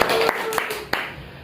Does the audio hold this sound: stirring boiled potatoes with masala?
no